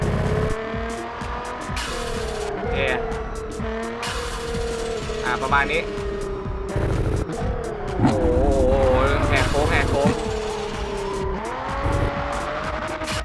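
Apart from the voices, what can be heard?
race car engine and tire squeal in Assoluto Racing video game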